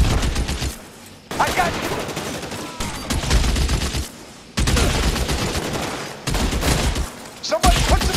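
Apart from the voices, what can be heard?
gunfire in the L.A. Noire video game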